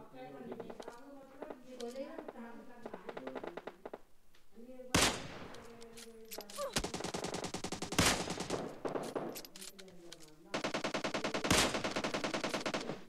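Kar98 bolt-action rifle shots in a mobile shooter game ring out as several sharp cracks spaced a few seconds apart, mixed with game effects and someone talking excitedly between them.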